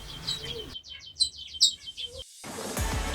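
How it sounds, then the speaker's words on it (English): A pet bird sings in an indoor bird room where budgies and cockatiels are kept, a quick run of bright chirping notes that rises in the middle and then gives way to a low rumble. "Been singing quite a lot actually, got a nice little song"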